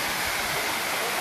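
Steady, dense roar of water falling at Kolli Hills, a hill waterfall in Tamil Nadu, heard close and loud with a constant broadband rush and no voices.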